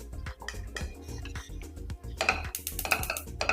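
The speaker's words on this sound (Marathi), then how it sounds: "आपल्याला छान खमंग खरपूस असं भाजून घ्यायचं" Grated coconut being dry-roasted in a pan for winter fenugreek laddoos, with close, irregular scraping and clinking of a spatula against the metal pan, getting busier and brighter toward the end, no talk.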